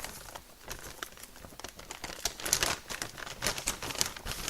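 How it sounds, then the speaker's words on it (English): Tissue paper crumpled and pushed down into a jar of layered brownie mix, a steady crinkling and rustling that swells louder partway through, close up with no voices. "you can take tissue paper or anything that is"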